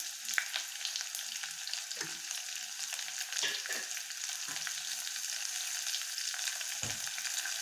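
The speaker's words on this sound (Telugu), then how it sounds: "అది వేసి బాగా కొద్దిగా ఫ్రై చేయాలి" Curry leaves, chopped onion and dried red chillies fry in hot oil for a village-style greens rasam, giving a steady, even sizzle with occasional soft stirring scrapes and no talking.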